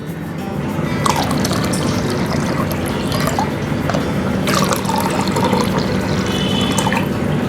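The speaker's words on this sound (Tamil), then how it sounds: "இப்போ ஒரு 1/2 லிட்டர் தண்ணி நம்ம சேர்த்துக்கலாம் மறுபடியும்." Half a litre of water poured into a pot of soaking nannari root for syrup, a loud, steady gushing and splashing stream running without a break from start to end.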